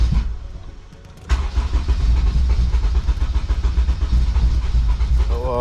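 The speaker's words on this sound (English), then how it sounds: "Let's give it a little gas here." A car engine fitted with a 4Piston intake cranks briefly and catches, then idles loud and close with a lumpy, uneven rhythm and small revs, running rough.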